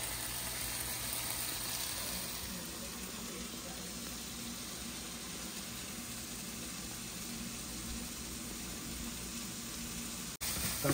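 A tadka tempering sautéing in a pan for Maggi noodles gives a steady, fairly loud sizzle and hiss throughout, with a constant high whine above it and a brief dropout near the end.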